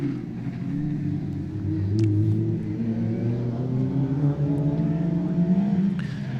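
Rallycross race cars from the BTRDA Clubman's Rallycross Championship drone steadily around a circuit, their engines rumbling at mid distance with shifting pitch as they push on through a twistier section.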